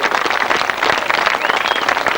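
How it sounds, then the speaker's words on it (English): Steady applause from a crowd honoring the winners at a 1998 1000cc right-hand sidecar grasstrack meeting, a continuous even wash of clapping lasting a couple of seconds with no voice over it. "Let's give a big round of applause to our 3 sidecar winners."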